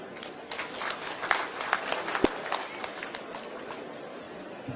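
Audience applause at a Turkana cultural and tourism festival, a dense, steady wash of clapping from a crowd held at moderate level for several seconds, with a few sharper claps and knocks standing out.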